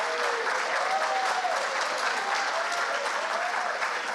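Audience at a public integrity congress in Rio de Janeiro breaks into sustained applause, a steady mid-level wash of many hands clapping with faint room murmur and a few tonal squeaks underneath.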